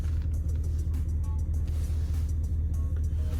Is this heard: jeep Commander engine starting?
yes